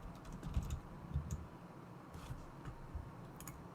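Fingers typing on a computer keyboard while a business setup form is filled in, soft uneven clicking bursts with short gaps, fairly quiet and close, without speech.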